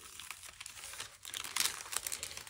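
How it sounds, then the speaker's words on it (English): Close, dry crinkling of parchment paper being peeled off melted bubble wrap, with soft crackles building to a brighter, louder rustle near the end. "And then you'll peel your parchment paper off."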